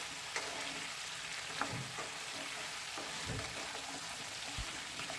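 Papaya and carrot pieces sizzle steadily as they fry in a pan and get stirred, a constant hiss broken by a few brief scraping thumps from the stirring.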